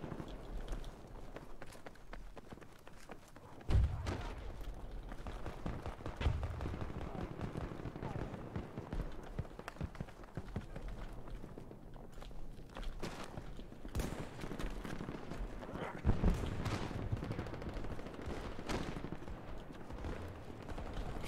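Gunfire in the shooter game Battlefield 2042, with sharp shots and bursts repeating through a dense, steady din of battle while a voice talks over the action.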